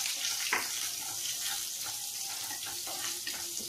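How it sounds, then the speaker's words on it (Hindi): Steady hiss and crackle of green chilies and ginger frying with mustard seeds in hot oil for a cabbage dish, a continuous close sizzle with faint pops and no talking. "अब इसी में हम ये अपना हरा मिर्च डाल देंगे और अदरक भी डाल देंगे इसी में।"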